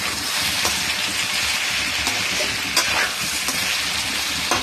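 Potatoes frying in a pan while being stirred, a continuous dense sizzle with occasional scraping clicks of the utensil, close and fairly loud, no voices.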